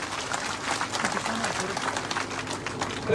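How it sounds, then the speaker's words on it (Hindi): Loud applause from the audience at a political speech rally in Viratnagar, a dense, steady wash of clapping filling the whole moment with crowd noise and a possible voice beneath. "जोरदार तालियां दोनों तरफ से"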